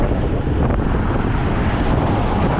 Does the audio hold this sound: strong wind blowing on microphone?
yes